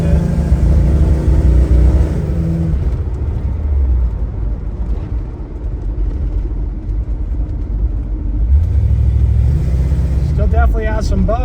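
A part-time parts car, now running, drives along with a steady loud engine roar that swells as it revs toward the end; a voice talks over the rumble.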